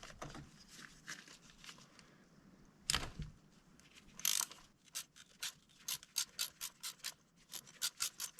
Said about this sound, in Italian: Chiave da 16 e andiamo a svitarle.